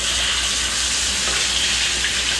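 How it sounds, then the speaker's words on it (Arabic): Hamour fish frying in oil makes a loud, dense, continuous sizzle and hiss heard close up, steady throughout with no voices. "هذا الهامور الديسكو الآن بدينا الآن وضع القلي تبعه"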